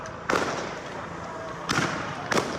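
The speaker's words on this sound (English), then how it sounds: "More bangs, more fireworks." Fireworks bang at a street protest where police stand shoulder to shoulder facing the crowd: three sharp, loud cracks spaced irregularly over a constant background murmur.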